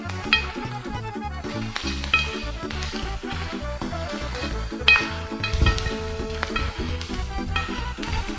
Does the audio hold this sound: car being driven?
no